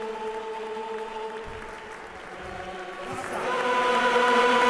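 Faithful applauding Pope Leo XIV at the Mass taking possession of the Roman cathedra, distant clapping under sustained organ or choir tones that swell louder toward the end.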